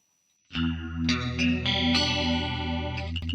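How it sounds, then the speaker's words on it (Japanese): Clean guitar chords through AmpliTube 5 CS shimmer with a deep, fast, warbling chorus wobble, played steadily for a few seconds without any voices. "当然上げると効果はわかりやすいけど、ビヨンビヨンな音になっちゃう。"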